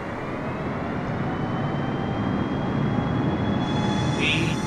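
KC-135 jet engines at full throttle in a flight game, a steady, broad roaring rush with a faint whine riding on top, sustained and fairly close, nobody speaking.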